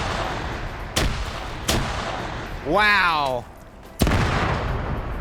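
Grenade blasts and gunfire crack in a video game PvP match, with three sharp booming bursts spaced apart and a voice exclaiming between them.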